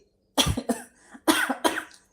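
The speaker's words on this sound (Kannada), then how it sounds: "ಅಷ್ಟು ಕೆಮ್ಮು ಬರ್ತದೆ ಕಾಯಿ ಮೆಣಸಿನ ಸ್ಮೆಲ್ಲಿಗೆ" Several harsh coughs close by, brought on by pungent green chili fumes while cooking, a short burst of two, a pause, then two more, with quiet in between.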